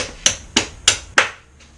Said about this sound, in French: quand les axes ne veulent pas sortir, on y va au marteau.